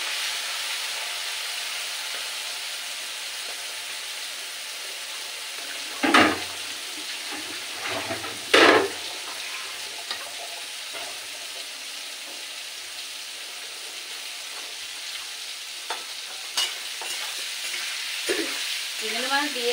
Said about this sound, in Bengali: এবারে আপনাদেরকে এই তেলটা ঢেলে দিলাম ভাজি করার জন্য।